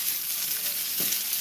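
Food sautés in a pan on a home stove while dinner is cooked, giving a steady, close, hissing sizzle with no talking over it.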